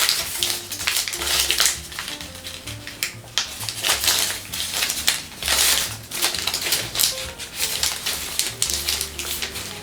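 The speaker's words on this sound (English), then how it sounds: "first doing a spread sink fold like this" Origami paper is worked through a spread sink fold on a Ryujin 2.1 dragon head, giving a steady run of close, crisp crackles and rustling creases over about ten seconds, with no voices.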